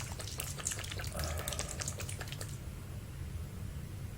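A bottle of fish bait essence for tilapia is shaken, a quick sloshing liquid rattle for about two and a half seconds that then stops, leaving only a quiet low background hum.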